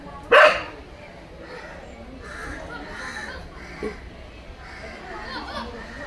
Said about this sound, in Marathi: तो टायगर गेला ना की असा रडत राहतो ते बघा